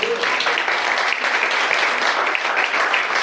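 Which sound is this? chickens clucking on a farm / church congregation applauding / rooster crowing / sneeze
church congregation applauding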